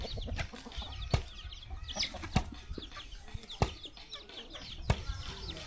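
Chickens cluck and murmur close by, punctuated by sharp, evenly spaced clicks against a busy background.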